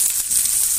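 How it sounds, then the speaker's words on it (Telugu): Onions frying in oil with curry leaves and turmeric for a Guntur-style stuffed brinjal fry, a steady close hiss of sizzling oil running without a break. "చూడండి, ఆనియన్స్ కూడా వేగాయి."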